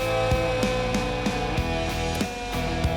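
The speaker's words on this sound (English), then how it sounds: "and that's the siren, okay?" A siren on an old Pontiac police-style car, switched on from the dash control panel, sounds loud and close as a continuous wail with repeating rhythmic pulses, running steadily throughout.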